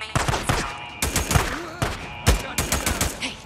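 Loud, close gunfire in the video game Days Gone comes in several sharp bursts of rapid shots, separated by brief pauses, with a few echoing reports trailing after each volley.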